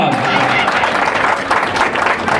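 Church congregation clapping together in praise for the King of kings, a steady, dense wash of many hands, loud and close, with voices murmuring underneath.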